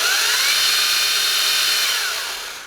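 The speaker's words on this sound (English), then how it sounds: "This chainsaw came set up just slightly tight, but it seems like it has a great speed." A Toro 60V battery pole chainsaw with a 10-inch bar runs at a steady high whine, loud and close, easing off toward the end with no talk.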